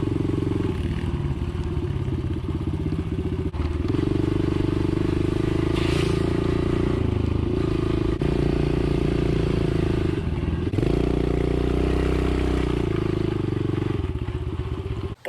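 Dirt bikes riding along dirt and sandy roads, a steady loud engine drone with shifting throttle swells and clattering over rough ground, heard continuously up close for the whole stretch.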